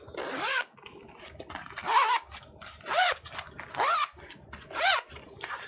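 Zipper on a new bag being opened and closed repeatedly, five or six quick rasping pulls spaced about a second apart, heard close and clear.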